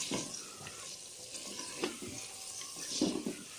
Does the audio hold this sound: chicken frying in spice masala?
yes